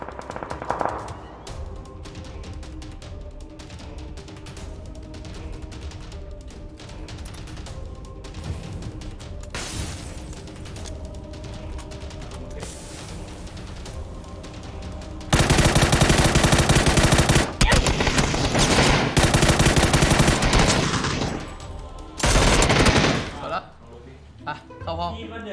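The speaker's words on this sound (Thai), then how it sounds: "ตามเสียงปืนเลย" PUBG gunfire: scattered shots give way to long, loud bursts of rapid automatic fire, with voices talking over the action.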